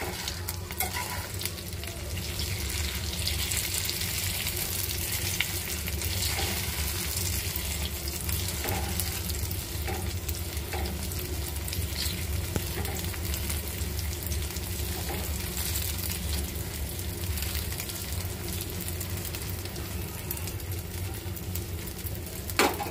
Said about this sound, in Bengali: এই যে ডিমটাও ভেজে নিতেছি।